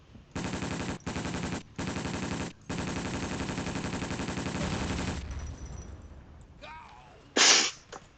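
Rapid gunfire in the video game Battlefield 1942, a loud rattling burst broken into several long strings of shots, then a fading tail, a quiet whistling sound and a single sharp crack near the end.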